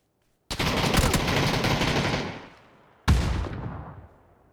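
Two grenade blasts in the PUBG battle-royale game: a loud, roaring burst that rumbles and fades over about two seconds, then a second sharp blast that decays away, with no talking.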